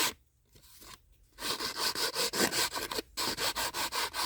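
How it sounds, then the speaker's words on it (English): A fingernail file rubbed back and forth along the edge of a cast resin storage container, after a quiet start giving a rapid, steady series of close, dry scraping strokes with no talking. "I took my fingernail file, went back and forth from the top and to the bottom"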